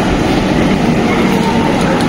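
A train pulling in at Kharagpur station gives off a steady, loud broadband rumble and rolling noise that fills the whole short stretch without letup.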